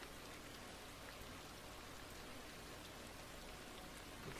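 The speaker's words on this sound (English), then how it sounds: "And it's raining again." Steady, even rainfall in a survival video game, a continuous hiss of drops with no talk over it.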